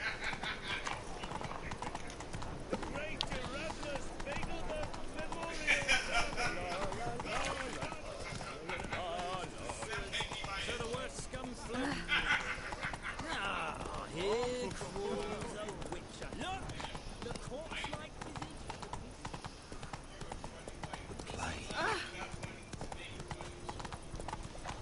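Horse hooves clip-clop along a road in The Witcher video game, a steady trotting rhythm running throughout beneath frequent talk from a man, with an occasional whinny.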